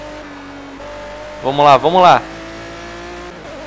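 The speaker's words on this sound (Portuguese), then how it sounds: "vamos sentindo o motorzão desse carro" A Palmer Jaguar KP-LM race car in the Project Cars video game drones at a steady engine pitch, with a short loud burst of revving in the middle before settling back, and someone speaks briefly over it.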